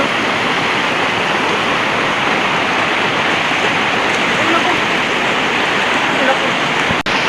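Tampakan falls roaring with strong flowing water, a dense, steady wash of sound that stays loud from start to finish.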